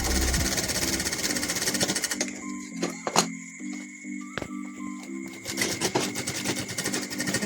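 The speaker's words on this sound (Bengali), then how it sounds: "দুটোকে আলাদা আলাদা করে এটাকে সেলাই করতে হবে" A sewing machine stitches a child's skirt, its rapid mechanical chatter running in steady bursts with brief pauses and a couple of sharp clicks, close and fairly loud with no talking.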